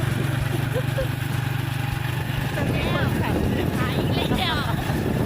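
A saleng motor tricycle drives along under a steady droning engine hum with wind rumble, as people talk and shout close by.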